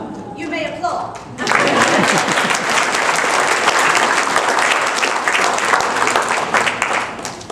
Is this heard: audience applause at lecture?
yes